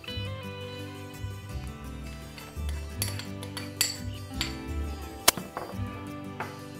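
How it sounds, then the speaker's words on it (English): Chopped garlic is added to a bowl of tomato and onion salsa, with light clinks and taps of a utensil against the bowl, scattered knocks and a single sharp clink, all close and fairly quiet. "Now we're going to add our chopped garlic."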